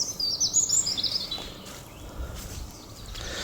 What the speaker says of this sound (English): because the birds are letting you know.